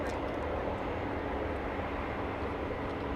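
Airliner taxiing at Los Angeles International Airport: a steady, broad engine rumble and whine that holds level throughout, fairly distant, with no speech.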